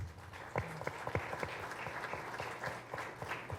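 Faint applause from an audience at a book presentation, scattered claps blending into a steady patter, distant and quiet throughout.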